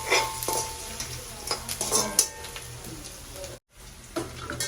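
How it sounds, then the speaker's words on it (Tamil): Crushed garlic sizzling in oil in a pan while a spoon stirs it, giving repeated close scrapes and clinks of metal over a steady fry, with a brief silent gap near the end. "இடிச்சு வச்ச உள்ளியையும் போடுவோம் போட்டு நல்லா தாளிப்போம்"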